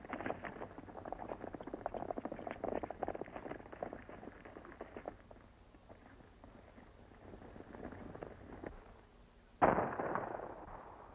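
Gunfire in a 1935 western film comes as a dense crackle of distant shots and rumble, which thins out and then gives way to a sudden, louder burst near the end.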